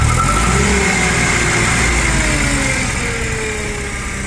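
Nissan inline four-cylinder petrol engine in a one-ton Japanese forklift revs steadily and loudly, pitch sliding gradually downward as it settles, close and alone without voices.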